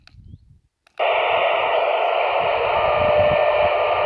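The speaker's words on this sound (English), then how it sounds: "that's also getting the same sort of pager noise on it" Pager intermodulation noise on a radio calling channel of a QYT KT-8900D transceiver: after a brief low murmur, a loud, steady buzzing digital data hiss bursts in and holds continuously.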